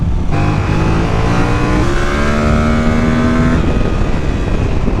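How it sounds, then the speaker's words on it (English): A Yamaha R7 sport motorcycle revs hard on road and track, its engine note rising steadily with strong airbox and induction roar, loud and close, before settling after a few seconds. "All you're doing is trying to get a bit of airbox noise, induction noise and engine noise"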